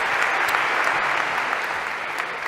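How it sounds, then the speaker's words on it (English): A lecture hall audience gives a guest professor a steady round of applause, a dense, even wash of many hands clapping at moderate loudness, sustained throughout with no speech. "Perhaps a round of applause for our special Professor Gav."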